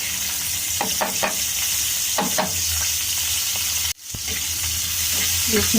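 Onion frying in leftover oil from a previous day's dry papaya mash, a steady broadband sizzle with scraping stir strokes, a sharp drop near the fourth second, then the crackle returns.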